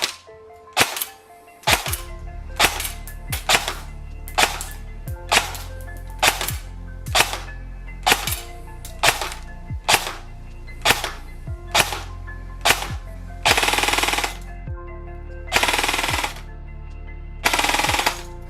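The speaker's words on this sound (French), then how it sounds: "On va aller au test chronie et au test de tir" Evolution Airsoft Lone Star Rancher AEG, an M4-style airsoft electric rifle, fires in a chrono and shooting test: a string of sharp single shots at a steady pace, followed by three short full-auto bursts near the end, loud and close with no talk.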